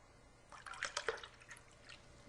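Kangen water pours into cups in a soft, brief splashing trickle that rises for about a second and then tapers off, close but faint over a quiet room hiss.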